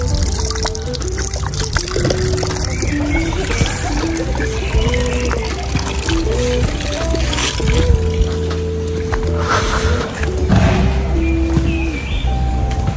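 Water trickling and splashing from a public drinking fountain in an Italian park, a steady close dribble with a busy background and faint distant voices.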